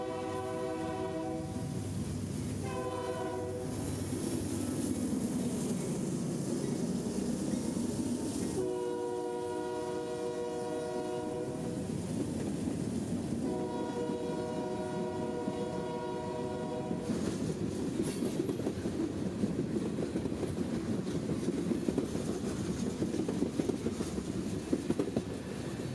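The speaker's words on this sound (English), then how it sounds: "tonight running long hood forward with temporary ditch lights and a very odd horn" Unusual, odd-toned horn of a Norfolk Southern freight train led by an AC44 locomotive running long hood forward with temporary ditch lights, sounding several loud sustained chord blasts alone at twilight in central Georgia, with rumbling train noise between and after.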